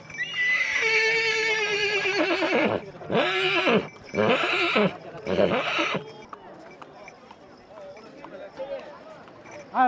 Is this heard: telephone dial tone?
no